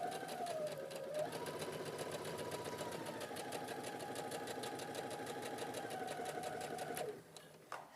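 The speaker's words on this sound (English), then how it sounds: "then you're going to sew the dart like you would normally sew a dart" A sewing machine stitches a dart in one steady, continuous run at close range with a fast even needle rhythm, stopping abruptly near the end. No one talks over it.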